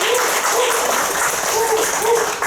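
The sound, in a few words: audience applause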